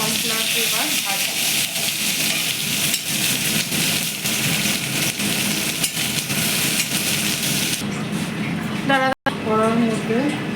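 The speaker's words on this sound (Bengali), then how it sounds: "এটাকে আমি কর্নফ্লাওয়ার দিয়ে এবার ভাজি।" Cornflour-coated echor (jackfruit) pakora frying in hot oil in a kadai, a steady loud sizzle and hiss throughout, with a voice talking over it near the end.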